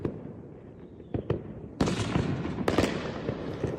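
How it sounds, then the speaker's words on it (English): Fireworks pop and crackle in a read-aloud children's story, a few sharp bursts followed by a dense crackling spray, fairly close and without talk. "By the time the fireworks show started"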